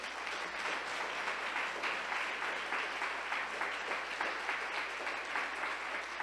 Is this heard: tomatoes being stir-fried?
no